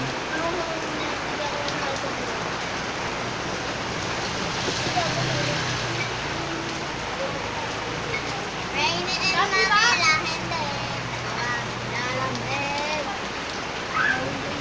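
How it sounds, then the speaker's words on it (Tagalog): Rain falls steadily on surfaces on a wet afternoon in San Andres Bukid, Manila, a constant dense hiss throughout, with children's voices and chatter rising over it in the second half. "maulan dito sa amin sa San Andres Bukid po."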